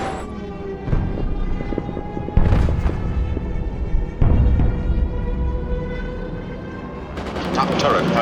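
Machine gun bursts from the top turret of the B-17 bomber Memphis Belle, firing at an attacking fighter, come in several rapid volleys over steady engine drone, with heavy thumps and a narrator speaking.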